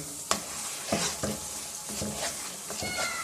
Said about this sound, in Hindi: सूजी की भुनाई के दौरान इसको आप मुसलसल हिलाते रहें, चलाते रहें।